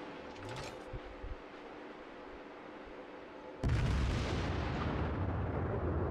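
Battleship artillery in a naval combat game, a heavy salvo landing midway with a deep booming roar that sustains as a loud rumbling wash after quieter ambient tones.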